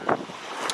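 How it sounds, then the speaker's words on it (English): Wind by the water at a seaside spot in St Lucia, a brief steady rush of gusting air buffeting the microphone, with a faint swell near the end. "It's so windy out here"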